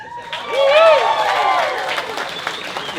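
A comedy club audience claps and cheers, the applause swelling loud in the first second and a half before thinning into scattered claps and crowd murmur, with a few voices calling out over it.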